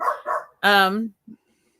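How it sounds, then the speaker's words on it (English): Dogs bark indoors: a couple of short, soft yips, then one louder, drawn-out bark close by, and a faint final woof. "sorry, my dogs are talking so much"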